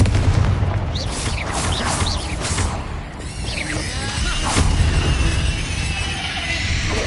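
Confringo fire-blast spells burst repeatedly in the Hogwarts Legacy video game, dense loud booms and crackling impacts layered with combat effects over several seconds.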